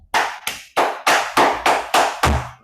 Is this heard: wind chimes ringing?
no